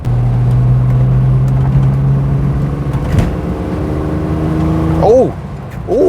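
A 1970s Ford Granada Mk1 pulls away, its engine note holding a steady drone then rising as it accelerates, close and fairly loud, with someone talking over the engine.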